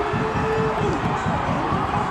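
Stadium crowd at a rugby semi-final win in the Boland Top 12, a dense sustained roar of cheering with a voice speaking over it.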